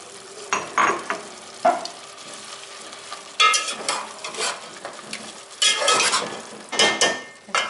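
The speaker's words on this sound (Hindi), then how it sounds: "अब मैंने इसमें डाल रही हूँ लहसुन अदरक का पेस्ट।" Garlic ginger paste sizzles and fries in a pot for mutton korma while a spoon stirs and scrapes against the metal in bursts, close up and with no speech.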